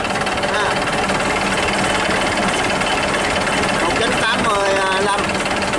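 Old, very large model 6KD engine running, a loud continuous rumbling and knocking drone with rapid repetitive pulses, a voice talking over it near the end.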